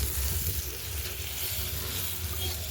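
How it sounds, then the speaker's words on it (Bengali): Pointed gourd pieces fry with turmeric in hot oil, giving a steady, close sizzle that runs without a break and with no voices. "মোটামুটিভাবে পটলটাকে ভেজে নিতে হবে"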